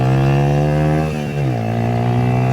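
A modified Yamaha YBR motorcycle revs hard in first gear, its steady droning engine note holding high, dipping briefly, then climbing again, loud and close with no talk.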